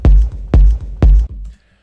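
A techno kick drum sample in FL Studio thumps three times in a steady rhythm, each hit deep, punchy and loud with a short boomy tail, followed by a faint fading rumble; nothing else plays.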